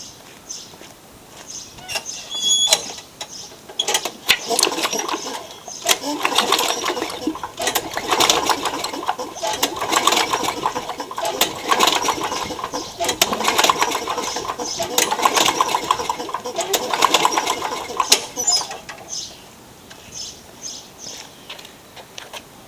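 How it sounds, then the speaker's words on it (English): A Craftsman lawn mower engine with its spark plug removed is cranked by its recoil pull rope again and again, giving repeated whirring, chuffing bursts without firing, with a voice talking at times. "I'm going to pull the rope and blow whatever excess oil might still be in the cylinder."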